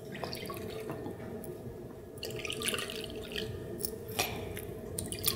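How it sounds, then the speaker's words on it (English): Water from cooked red beans draining through a cotton cloth laid in a strainer, heard as quiet, irregular drips and trickles close by over a soft wet background. "all water is going down, and then all we get is just beans"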